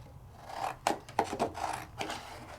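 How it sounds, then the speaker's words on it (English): Sizzix white cardstock being cut, heard as a few short, close rasping snips and rubs spread over a couple of seconds, with no talking. "let's pull out a sheet of Sizzix white cardstock. And let's cut it up."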